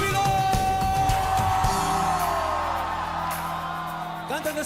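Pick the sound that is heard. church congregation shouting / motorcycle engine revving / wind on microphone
church congregation shouting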